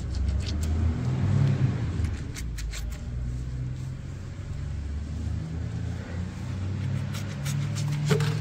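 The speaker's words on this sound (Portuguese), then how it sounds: "Parou mais um carro." A car engine rumbles close by on a roadside stop, its low drone steady across the clip with a slight swell near the end as it settles, with no voices over it.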